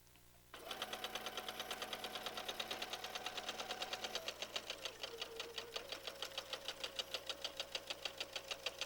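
An electric sewing machine stitches a seam onto a solid piece of fabric in a steady, fast mechanical chatter that runs continuously after a brief start, slowing slightly near the end.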